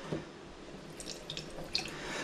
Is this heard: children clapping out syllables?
no